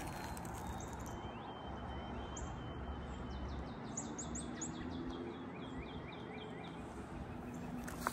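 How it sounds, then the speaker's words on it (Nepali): A bird calls with a quick series of high chirps in the middle, fairly distant, in an American forest, over a constant background hiss. "यो आवाज चिन्नुहुन्छ कुन चराको?"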